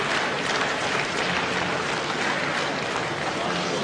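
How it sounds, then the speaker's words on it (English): Romanian spectators clap along in an arena at a gymnastics world championships floor final, a dense steady wash of crowd clapping with a faint rhythmic pulse that holds even throughout. "The Romanians clapping along,"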